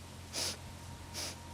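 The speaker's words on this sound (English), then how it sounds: "And from here, inhale in 4 sniffs." Kundalini yoga breathing: two quick, close nasal sniffs of inhaled air, sharp, breathy bursts spaced under a second apart over a quiet background, with no talk.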